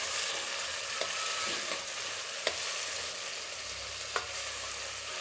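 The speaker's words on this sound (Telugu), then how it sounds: "ఎర్రగడ్డలు ఇలా వేగిన తర్వాత మనము టమాటాలు వేసుకోవాలండి." Onions and tomatoes fry in a pan for mushroom biryani, a dense continuous sizzle with a few soft clicks of stirring, close and steady, with no voices.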